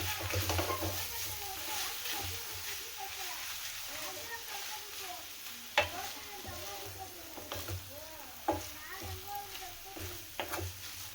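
Vegetable hakka noodles tossed with masala in a pan, stir-fried with a steady low sizzle and scattered sharp clinks and scrapes of a utensil against the pan, while a voice talks over it throughout.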